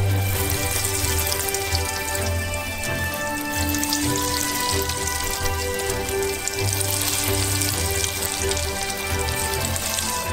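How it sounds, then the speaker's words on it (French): Potato croquettes fry in hot oil in a pan, giving a dense, steady sizzle and crackle that holds evenly throughout, close by and without voices. "Et on va faire frire nos croquettes de pommes de terre."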